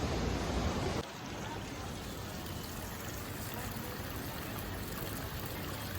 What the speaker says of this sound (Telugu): Mountain water.